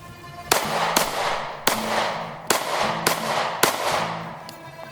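Rapid outdoor gunshots in a cold-start shooting drill, about seven sharp loud reports at irregular intervals, each followed by a short ringing echo.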